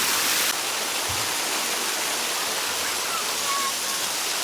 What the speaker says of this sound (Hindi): देखो हम कहाँ हैं, वाटरफॉल